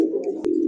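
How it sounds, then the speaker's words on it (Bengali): Gola pigeons, a white local gola among them, coo in a low, steady throaty hum through the whole moment, broken by one brief sharp click near the end. "সাদা গোল্লাটা, দেশি গোল্লা, লাল গিয়ারের মধ্যে 2 কবুতর, মাশাআল্লাহ খুব সুন্দর।"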